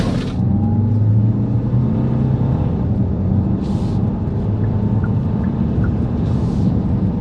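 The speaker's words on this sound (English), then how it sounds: "Now you're going to hear the engine here and there" A 2024 Hyundai Santa Fe Hybrid engine hums and rumbles steadily as it accelerates, heard from inside the cabin, fairly loud and continuous.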